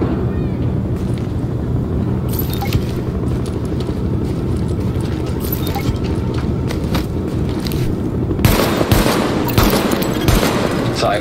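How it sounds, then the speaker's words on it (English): Guns fire at highlighted targets on a training range in Tom Clancy's The Division, with a steady stream of loud close shots that swells into a denser burst near the end. "Open fire at the highlighted targets."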